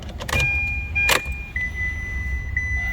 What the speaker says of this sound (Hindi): मैंने चाबी बाहर निकाली